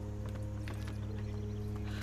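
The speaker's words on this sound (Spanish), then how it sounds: "Nos montamos al caballo." Horse hooves clip-clopping at a steady gait while riding in Assassin's Creed 3 on Wii U, rhythmic hoofbeats over a constant low droning game background, with no talking.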